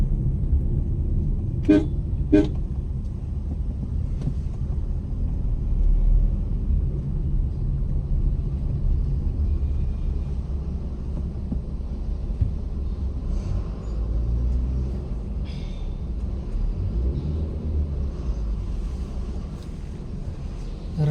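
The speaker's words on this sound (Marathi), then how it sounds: "ट्रॅफिक लागले एच पी चौकामध्ये" Road traffic at HP Chowk in Pune, a continuous low rumble of engines with two short car horn toots near the start and scattered fainter honks later, heard from inside a moving vehicle.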